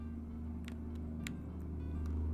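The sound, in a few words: loud car engine in Phoenix Wright: Ace Attorney – Dual Destinies video game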